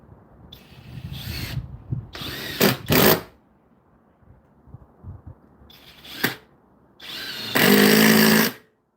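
Power drill driving screws into wood during a home renovation, several short bursts of whirring separated by pauses, the last burst longest and loudest, close up with no talk.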